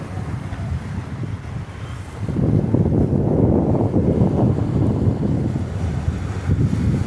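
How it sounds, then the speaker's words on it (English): Strong wind buffeting the microphone on the north-end shore of Lake Nipigon, with big waves rolling in beneath it as a heavy, continuous roar that surges louder partway through. "You can tell by the waves are big."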